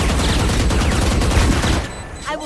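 Loud, rapid video game gunfire as a player shoots through a wall: dense overlapping bursts of shots hammer continuously, then cut off near the end, followed by a brief voice.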